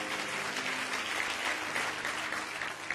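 A church congregation applauds the Lord with steady, dense clapping that fills the space throughout, loud and continuous with no break.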